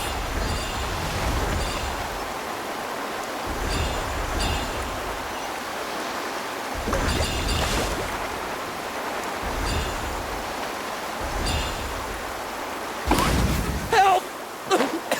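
Water in the Genshin Impact game surges and splashes as a character wades into the sea, with rushing swells rising and falling in waves and a sharper splash near the end.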